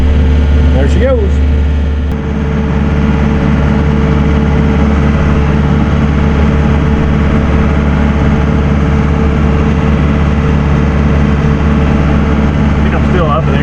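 A John Deere 4320 tractor engine runs steadily with the PTO engaged, a loud, constant low droning rumble with a faint whine on top, unbroken throughout.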